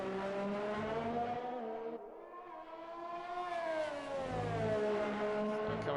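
A McLaren race car in a racing video game screams past with a high, harmonic engine whine, its pitch dropping then climbing steadily as it accelerates through corners at close range.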